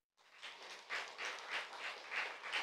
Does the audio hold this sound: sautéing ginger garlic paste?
no